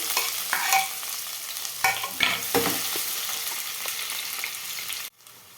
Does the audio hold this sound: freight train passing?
no